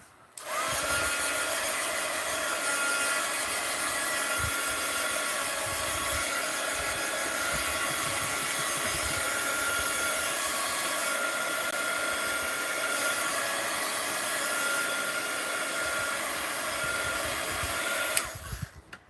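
Dryer blowing over an art journal page: a steady, loud airy whoosh runs continuously for most of the stretch, then cuts off abruptly near the end.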